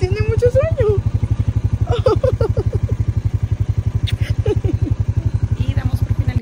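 A motorcycle engine rumbles steadily and close throughout a short ride with a little girl aboard, its low pulsing drone running under a voice speaking over it.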